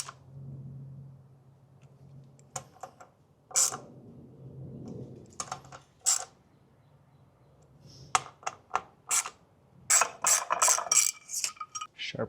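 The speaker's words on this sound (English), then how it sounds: "tighten down all these bolts" A ratchet wrench tightening intake manifold bolts on a small-block Chevy 350, with sharp clicking bursts coming in short irregular runs, close and fairly quiet, no talk.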